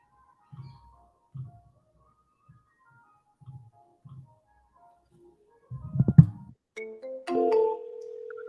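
Faint, evenly spaced ringback tones repeat on a phone line, followed by a crackle and a short burst of tonal electronic sound.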